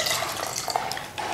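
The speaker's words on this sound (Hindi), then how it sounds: "सवा कप पानी आपने लेके" About one and a half cups of water are poured for a drink, a short steady close trickle and splash with faint clinks of a container and no talking.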